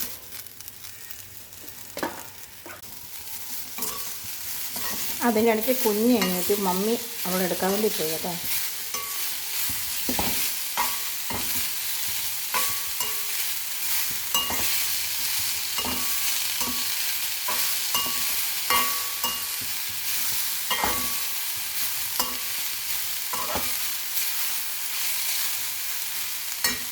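Fresh spinach hits hot oil with mustard seeds and a pinch of salt in a home kitchen, giving a steady close sizzle with scraping stirs, while a voice talks briefly over the frying.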